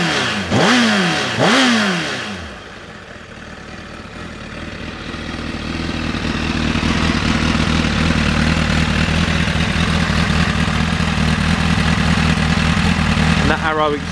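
A motorcycle fitted with an Arrow exhaust with a baffle, already warmed up, opens with two sharp throttle blips, then settles into a loud, steady idle close by before another quick rev at the end.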